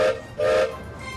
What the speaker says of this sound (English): It also has a whistle that sounds like this.